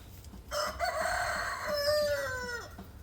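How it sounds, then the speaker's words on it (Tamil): A rooster crows once, loud and close, in a long drawn-out call that rises and then trails away, with no talk over it. "வெள்ளவாத்தில் ஓடுது பாரு சேவல்"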